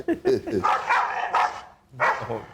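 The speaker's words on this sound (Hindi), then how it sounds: "भौंक भौंक के आसमान सर पे उठाया हुआ, लड़ो अब नहीं लड़ रहे।" Dogs bark and yelp in bursts during a fight. The barks are loud and close, with short gaps, and someone talks over them.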